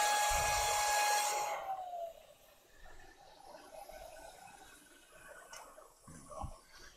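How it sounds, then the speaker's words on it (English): A powerful vacuum system on a CNC router after cutting aluminum shuts off, its loud high whine dropping away within two seconds, leaving a quiet room with faint clicks and handling noises. "Wait for that powerful vacuum to get off."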